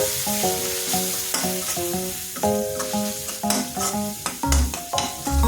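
Small fish cook in a pan with chilli and coriander powder under a constant sizzle, with repeated scraping and clinking of the stirring spoon. Tonal background music plays throughout, and a heavier knock comes near the end.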